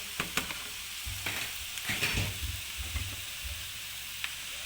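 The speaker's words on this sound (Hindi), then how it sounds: "अच्छी तरह मिक्स कर लेंगे वेजिटेबल के साथ" Rice being stirred and fried with vegetables in a pan for egg fried rice gives a soft, steady sizzle broken by scraping stirs and light clinks, with no voices.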